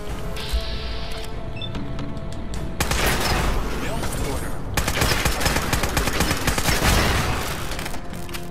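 Rapid Fallout 4 gunfire rattles continuously in dense bursts, loud and close, with a brief pause before the shooting resumes.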